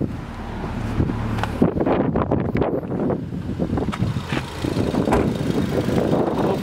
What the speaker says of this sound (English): Air is blowing nice and cool right now.